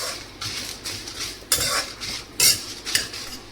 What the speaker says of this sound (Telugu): ఇప్పుడు ఇవన్నీ ఆయిల్లో మంచిగా ఫ్రై అయ్యేంత వరకు ఫ్రై చేసుకోవాలి